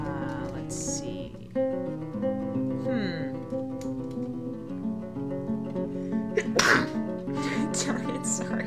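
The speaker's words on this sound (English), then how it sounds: "I just sneezed." A single sneeze bursts out close and loud over steady background music, with someone talking before it.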